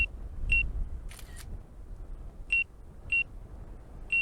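A high electronic beep from an Autel Evo Nano+ drone sounds in short, evenly spaced pulses over a low hum, with a brief burst of static partway through.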